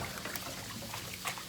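Tap water runs and pours steadily while a dish is rinsed out in a home kitchen, a soft continuous trickle with light splashes and no talk over it.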